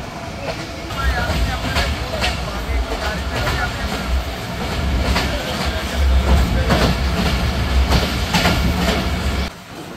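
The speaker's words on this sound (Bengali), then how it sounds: "এরই মধ্যে আমরা প্রবেশ করছি আমাদের ট্রেনটির 8 নম্বর স্টপেজ জয়পুরহাট রেলওয়ে স্টেশন" The Titumir Express, train 733, rolls into Jaipurhat railway station with a loud continuous rumble, rhythmic wheel clatter on the rails and a deep low drone heard from on board, easing off at the end.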